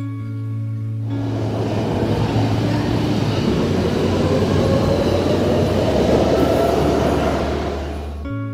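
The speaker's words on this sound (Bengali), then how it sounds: "আমরা এখন চলে এসেছি মেট্রো স্টেশনে।" A Brussels metro train rumbles through a station, its roar building steadily and holding loud for several seconds over a low electric hum before fading out.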